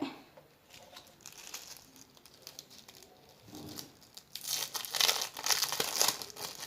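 Paper crinkles and rustles with soft handling noises during embossing with small dies, growing louder and busier toward the end, with no talking.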